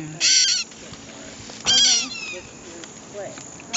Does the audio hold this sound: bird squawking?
yes